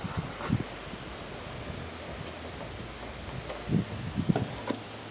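Soft, steady wind noise buffets a nearby microphone, with a few low rumbling gusts and faint rustling.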